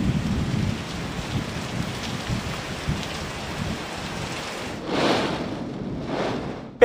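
Strong typhoon wind roars with heavy rain during Super Typhoon Nando in Santa Ana, Cagayan, a steady loud wash of storm noise with a louder gust surging near the end.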